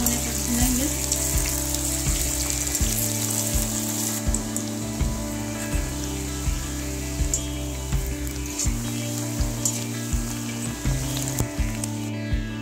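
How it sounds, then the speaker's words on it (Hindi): Onions fry in hot oil for jackfruit biryani, a steady close sizzle that runs throughout with a constant low hum beneath it and occasional faint clinks and stirring, no talk. "ऑयल गरम हो चुका है, इसमें डाल देंगे प्याज। गोल्डन होने पर भूनेंगे।"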